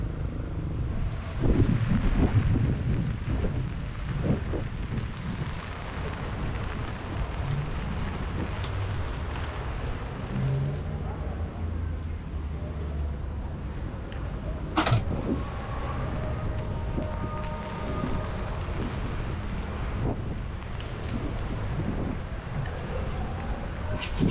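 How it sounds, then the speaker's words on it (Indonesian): A wind and rain storm on the road, steady rushing noise with rain and gusts throughout, plus scattered clunks and passing traffic rumble. "ini hujan angin"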